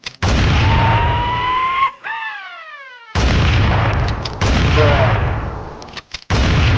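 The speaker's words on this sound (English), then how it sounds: "Lastly, in the weapons section, we have the loaded shotgun" A loaded shotgun in Identity V goes off in heavy, booming blasts, several loud bursts separated by short gaps, one followed by a descending ringing whine, with no one talking over them.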